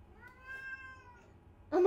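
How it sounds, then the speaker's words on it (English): A house cat gives one drawn-out, angry-sounding meow of moderate loudness, followed by a sudden louder noise at the end. "Oh, my God, that's the cat."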